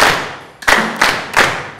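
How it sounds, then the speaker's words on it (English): Hands clap in rhythm during a choir sight-singing warm-up, three sharp, evenly spaced claps ringing in a reverberant room. "Clap your hands."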